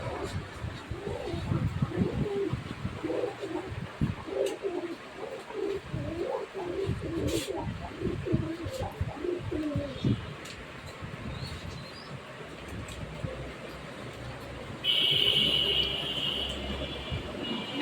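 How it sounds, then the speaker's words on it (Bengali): Many local and foreign pigeons in a pigeon showroom coo repeatedly in overlapping, throaty warbles, close and fairly loud at first, then thinning out over a faint background hum. "দেশি বিদেশি সব ধরনের কবুতর এখানে পাওয়া যায়।"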